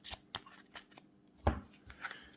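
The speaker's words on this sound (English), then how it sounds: "Shuffle our deck again." Crisp riffling and snapping of playing cards being shuffled, a few quick bursts with small taps between, close and fairly quiet.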